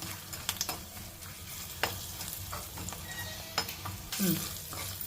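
Mango pieces are stirred in hot tempering oil, with a low continuous sizzle and a handful of distinct spoon scrapes and taps against the pan, near and moderately quiet.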